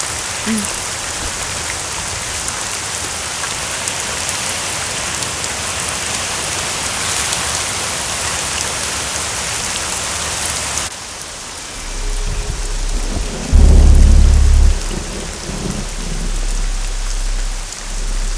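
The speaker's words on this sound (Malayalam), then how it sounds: "നന്നായിട്ട് ഇടിയും വെട്ടുന്നുണ്ട്." Heavy rain pours loudly and steadily on surfaces during a night thunderstorm at a ladies' hostel in a movie scene, with a low thunder thump near the end.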